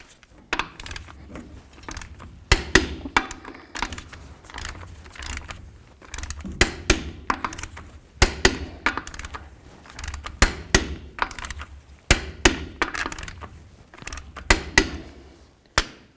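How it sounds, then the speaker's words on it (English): Torque wrench tightening the lug nuts on a 1992-99 GMC K1500 truck wheel to 120 foot-pounds in a crisscross pattern, giving repeated sharp metallic clanks and clicks in irregular bursts, close and fairly loud, with no talking. "Now it's time to torque these lug nuts to 120 foot-pounds."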